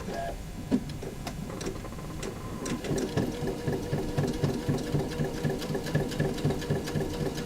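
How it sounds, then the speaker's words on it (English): A sewing machine doing free-motion stitching around appliqué pieces, giving a steady rapid mechanical chatter that picks up slightly after a few seconds and runs continuously at moderate volume, with no talking. "I'm just going to roughly stitch around those applique pieces"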